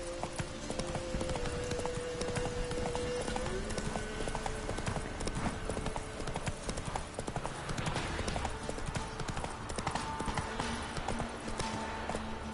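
Roach the horse gallops in The Witcher 3, a steady rapid clip-clop of hooves running continuously and fairly faint, with a soft voice heard briefly.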